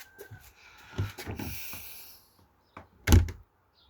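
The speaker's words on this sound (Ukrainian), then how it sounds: "Все, ударили сюди, стало на місце." A PVC metal-plastic door being pushed and slammed into place: a few soft knocks and shuffling, then one sharp, close thump near the end as it shuts.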